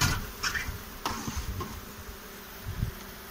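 Honey bees buzz during a hive inspection in the Vysočina region of Czechia in May, a faint, steady hum with a few closer passes and light handling knocks, no talking.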